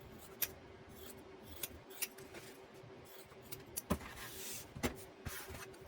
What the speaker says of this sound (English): Grab some scissors. I'm going to trim down my excess here.